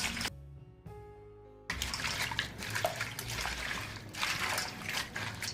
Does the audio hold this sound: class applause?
no